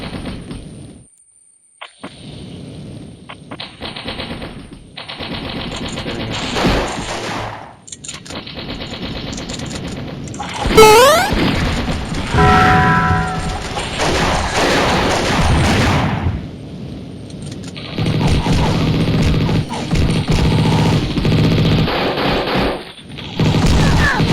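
Rapid automatic gunfire from a newly picked-up weapon in the mobile shooter game Mini Militia, loud bursts and rattling volleys with sharp game sound effects repeating through most of the stretch, no talking.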